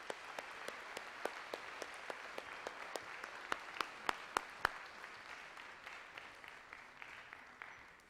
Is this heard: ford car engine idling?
no